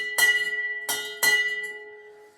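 A bar bell is struck three times, each clear metallic ring lingering and slowly fading, with the last two strikes close together.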